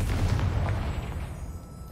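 A Confringo blasting spell in Hogwarts Legacy goes off as a single low rumbling boom that decays over about two seconds, heard alone with no voices.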